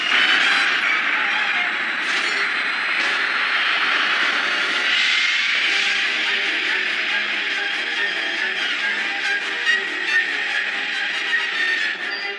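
A steady, loud spaceship engine roar from the anime Space Battleship Yamato 2199 rises and holds throughout, a broad droning whine with rumbling texture, like a large vessel's engines powering up.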